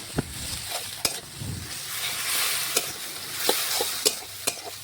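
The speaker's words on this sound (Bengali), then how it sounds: "এখন মশলাটা একটু ভেজে নেব, তাহলে মশলা থেকে কাঁচা গন্ধ চলে যাবে।" Spice paste for a mutton and green papaya curry frying in oil, a soft continuous sizzle broken by sharp scraping and tapping strokes as it is stirred, close and fairly quiet.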